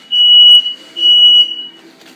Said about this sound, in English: It's our fire alarm.